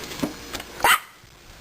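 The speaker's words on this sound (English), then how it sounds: "no barking." A pet dog barking indoors: two or three short, sharp barks close to the microphone, the loudest near the middle, with a few quiet gaps between them.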